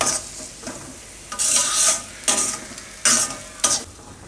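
Suji besan halwa with melting sugar being stirred in a pan: several short, loud scraping bursts of a spoon against metal, separated by quieter pauses with a soft background sizzle.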